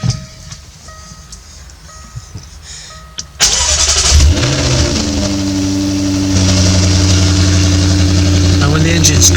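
A Jaguar F-Type R with 48,409 miles is started cold: near silence, a sharp crank and catch, then a loud, steady high idle that rises slightly a few seconds later.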